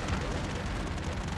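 Airstrike explosions in the game Broforce, a dense, continuous rumble of overlapping blasts at steady loudness with no clear gaps.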